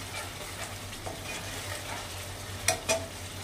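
Chicken masala with cashew and onion cooking down in oil, a soft low sizzle with faint stirring scrapes and two sharp utensil clinks near the end, close but quiet, no talk.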